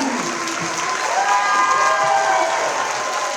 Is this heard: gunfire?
no